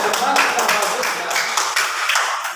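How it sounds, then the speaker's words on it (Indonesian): A classroom of students claps for all the groups after a windmill lesson, a brief wash of applause with uneven claps blending together, fairly close and loud, with a voice speaking over it. "Tepuk tangan buat semua kelompok."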